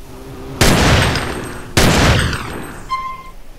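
Two loud, sharp Desert Eagle pistol shots in GTA San Andreas, each blast decaying into a short ringing tail, followed by a faint metallic clink and tone.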